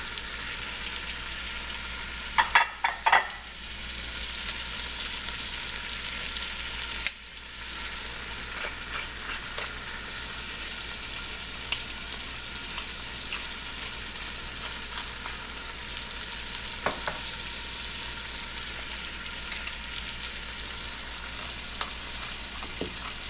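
Onions sizzle steadily in bacon fat in a pot for southern BBQ beans, with a soft continuous frying hiss and occasional scraping clicks of a spoon stirring, close but fairly quiet.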